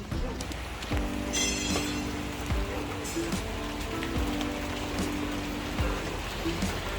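Heavy typhoon rain pours down steadily on a farm, a dense, loud, unbroken hiss with scattered drips and patters on surfaces.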